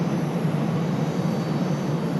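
Delta Air Lines Airbus A321neo engines at Raleigh-Durham International Airport, a steady broad roar with a low hum, holding even and loud for the whole stretch with no voices.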